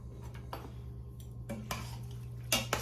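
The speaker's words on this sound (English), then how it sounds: "I'm going to kind of keep stirring it as I go" Metal spoon scraping and clinking against the inner pot of an Instant Pot while stirring an egg noodle casserole with melting cheese, several sharp clanks over a steady low appliance hum.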